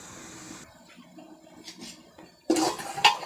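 Soaking water is poured off rice while making chana pulao, heard as a low trickle that gives way to a sudden, louder splashing gush near the end.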